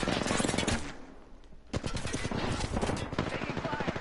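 Rapid bursts of gunfire from an Apex Legends match, loud and close, with a brief lull before the firing resumes densely; game voice callouts are heard over it.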